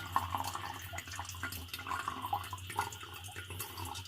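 Filtered drinking water pours out under pressure in a steady, faint splashing and trickling stream, with small drips and gurgles throughout and no voices.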